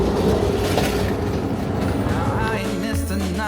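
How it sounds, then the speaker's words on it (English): An Amtrak Southwest Chief passenger train rolls along the rails, steady clickety-clack and rumble heard from inside a car, with faint wheel squeal near the end and some murmured voices in the background. "Coach or sleeper, the rhythm of the rails is just about the same."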